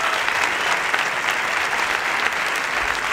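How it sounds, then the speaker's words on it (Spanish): Steady, dense audience applause for comedian Señor Z at a live comedy show, loud and continuous throughout, with no talking over it. "fuerte aplauso para el señor Z"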